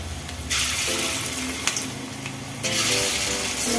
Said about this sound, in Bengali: তেল গরম হয়ে গেছে আমি ডালের বড়াগুলো ছেড়ে দিচ্ছি